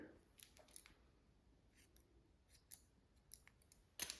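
Scissors snip hair close around the ear during a women's pixie haircut, a few quiet, crisp cuts spaced apart with a sharper, louder snip at the end, near and alone.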